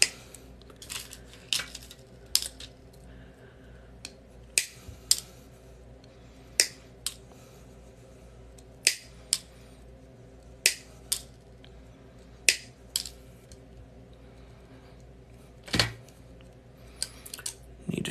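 Clippers snip a sheet of metal into pieces, giving sharp, isolated clicks at irregular intervals over a quiet background, close and crisp.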